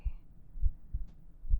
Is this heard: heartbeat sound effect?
yes